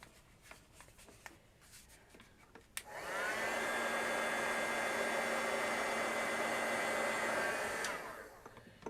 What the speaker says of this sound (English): Just give that a heat blast.